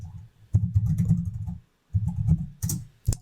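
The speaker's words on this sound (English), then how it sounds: "So up here, I'm just going to type in" Close, crisp keystrokes on a computer keyboard while entering spreadsheet labels in Excel, coming in quick rattling runs separated by brief pauses, with no talk.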